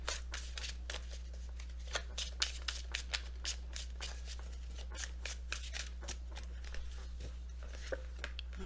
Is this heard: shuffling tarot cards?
yes